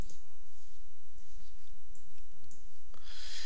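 Computer mouse clicks while filling out an online insurance form, a few sharp, close clicks spread over a few seconds against a quiet room hiss.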